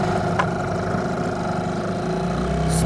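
A small boat motor started without the choke runs close by with a steady, rough mid-pitched drone for the whole stretch, with no voices.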